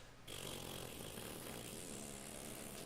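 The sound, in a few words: loud car exhaust engine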